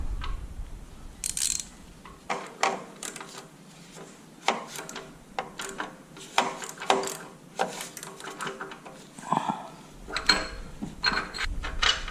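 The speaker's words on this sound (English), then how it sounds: "next we're gonna take the O2 sensor out with the O2 sensor tool" Metal tool scraping and clicking against an O2 sensor on a Jeep Patriot/Compass during a CVT transmission replacement, with intermittent ratcheting, rubbing and knocking sounds, close up, with no talk.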